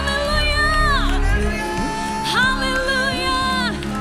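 A church congregation shouting and cheering together in loud, sustained bursts, with crowd voices rising twice over a held musical backing.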